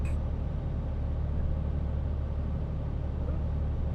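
A steady low truck engine drone in Euro Truck Simulator 2, quiet and constant with no talk.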